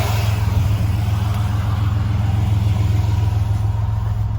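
Engine of a 2000 Chevrolet Blazer ZR2 running after a fuel pump replacement, a loud, steady, close low rumble that holds an even idle throughout with no talk.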